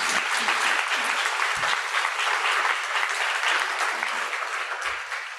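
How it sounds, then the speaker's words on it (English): An audience claps for the panelists at a climate change advocacy panel, sustained loud applause for over five seconds that tapers slightly at the end, with no speech over it. "Let's give one round of applause to our amazing panelists."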